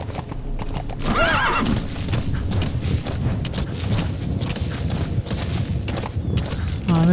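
Horse in Metal Gear Solid V trotting with loud, close, rhythmic clip-clop hoofbeats, a clear whinny near the start and another neigh at the very end.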